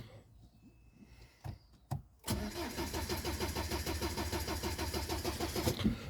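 A BMW 320d SE sits quiet apart from a couple of sharp clicks, then its starter cranks the engine in a fast, even, pulsing rhythm that keeps going without catching, up close and alone.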